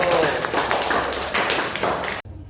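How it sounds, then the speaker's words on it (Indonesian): Classroom applause for a student group: dense, fairly loud clapping from many hands fills about two seconds, then cuts off abruptly to near quiet. "tepuk tangan untuk kelompok 1"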